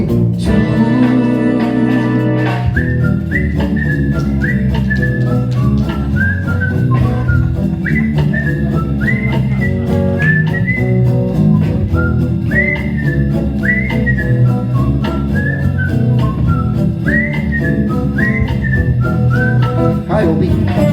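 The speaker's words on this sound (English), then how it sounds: "I'm gonna whistle me a happy tune." A person whistles a happy, bouncy tune, clear and sustained for the full stretch, with repeated melodic phrases over a steady musical backing.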